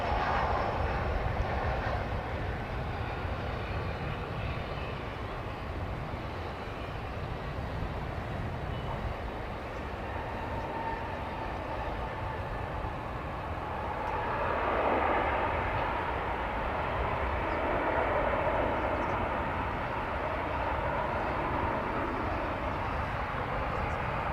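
A plane takes off on runway 18 right at Dallas Fort Worth airport, a sustained broad engine roar heard from a distance that swells louder partway through.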